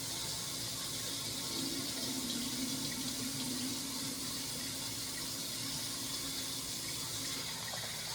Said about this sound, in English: I'm washing my rice, you guys.